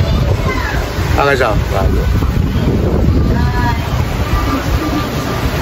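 Steady, heavy wind roars across the microphone throughout, with rain falling and people talking faintly underneath.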